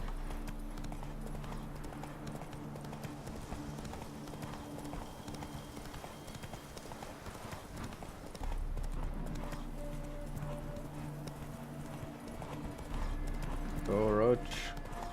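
The horse Roach in the video game The Witcher 3: Wild Hunt runs with steady, rhythmic clip-clopping hoofbeats that continue throughout, with a brief whinny near the end.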